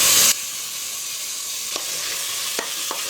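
Three finely chopped tomatoes dropped into a pan of frying onions and ginger-garlic paste for rajma rice: a loud burst of sizzle at first, then a steady hiss with a few sharp spoon taps.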